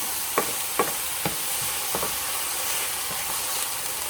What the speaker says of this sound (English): I just want the onions to become a little translucent. Sweat a little bit